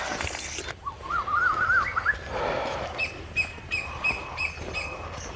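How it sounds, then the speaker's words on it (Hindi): Birds sing on an alfalfa farm: a clear warbling call rises near the start, followed by a run of short, bright repeated chirps against a steady outdoor background, with a brief noisy burst at the very beginning. "परिंदियां दी आवाज़ां सुनो तुसी"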